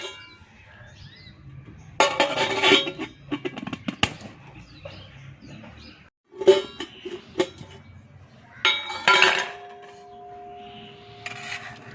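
A vessel of soaked rice for idli batter is covered with a lid, giving close, clattering knocks and scrapes in three separate bursts with quieter handling noise between them.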